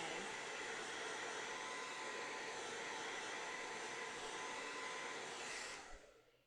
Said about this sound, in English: I'm actually just going to take my dryer.